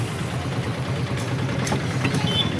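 A tractor engine idles nearby in a steady low chugging drone, with faint higher clatter and brief ticks over it, and no talking.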